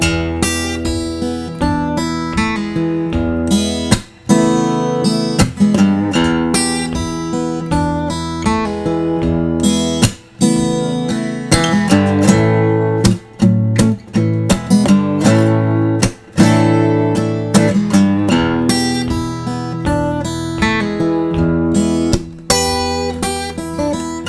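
Guitar in open E tuning plays a 12 bar blues, with strummed chords and bluesy licks broken by short pauses, loud and close with no voices.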